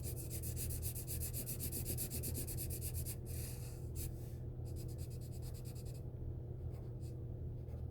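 A pencil shades on paper for a comic drawing, giving a quiet, continuous scratchy rubbing with close-up back-and-forth strokes under a low background hum.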